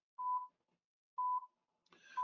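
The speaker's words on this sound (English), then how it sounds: "So this alarm here, I have a mute button. So when I put this on the panels, when I go away at nighttime, I can mute the beep." An intercom panel alarm gives two identical short electronic beeps about a second apart, then a third beep sounds over a burst of other noise at the end; clean, quiet background and no talking.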